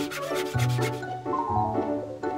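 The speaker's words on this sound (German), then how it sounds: "wir alle Bretter auf die richtige Länge schneiden" A saw cuts wooden boards in a cartoon scene, with rhythmic back-and-forth rasping strokes. The strokes are fast at first, then slower and heavier, close and loud, with no voices.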